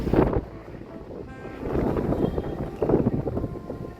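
Cold breeze buffeting the microphone outdoors, low rumbling gusts rising and falling in waves, with faint background voices.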